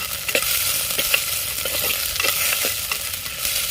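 Vegetables being stirred and fried in oil for a village-style sambar: a loud, steady sizzle with repeated scraping and clinking stirring strokes, close by and without talk.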